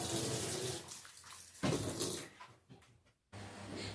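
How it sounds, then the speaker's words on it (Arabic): Sliced potatoes rinsed under running tap water to wash off starch, a steady broadband rush of water with a brief break and splashy shifts as the slices are moved around, close and fairly loud. "هغسلهم بقى تحت المية كويس جدا لحد ما النشا اللي فيه ينزل تماما، يعني تحت مية جارية"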